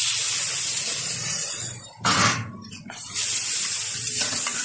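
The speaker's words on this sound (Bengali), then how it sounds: "এখন দিয়ে দেবো পরিমাণ মতো জল।" Water poured into a pan of frying spiced potatoes, a sudden loud hissing rush of steam for about a second, then a return to steady sizzling.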